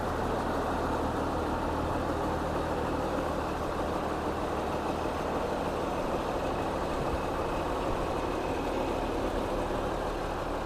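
A 2001 Case MX150 tractor with a 150 hp Cummins engine idles steadily, a constant low diesel drone with broadband noise that stays even and unchanging throughout, heard from nearby.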